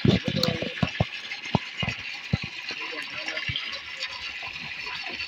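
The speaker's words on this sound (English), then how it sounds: "Yeah, this is putting water in the fish pond." Water gushing into a fish pond during a morning routine, a steady broadband rush with scattered splashes and knocks, loud and close under brief bits of talk.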